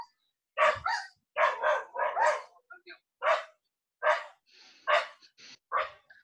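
Dogs bark in short, repeated bursts at close range, a few quick yips mixed among louder woofs, with brief pauses between the barks.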